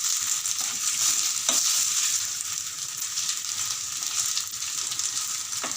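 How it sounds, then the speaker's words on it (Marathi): Aliv (garden cress) seeds, soaked in milk, stir-fry in ghee over a lowered gas flame, giving a steady close sizzle and hiss with soft occasional stirring scrapes throughout. "गॅस थोडा बारीक करते आणि तो परतून घेते तुपावर।"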